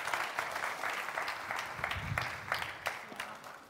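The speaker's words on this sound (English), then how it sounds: "can we get a round of applause," Applause from a conference audience for two panel guests, a steady wash of many hands clapping at moderate distance, fairly faint and continuous throughout with no talk over it.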